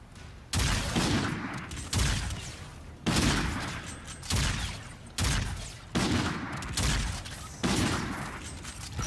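Equalizer gun firing in Infinite Warfare zombies mode, with seven loud bursts of rapid gunfire at roughly regular intervals, each a sharp onset with a short ringing tail, close and dominant.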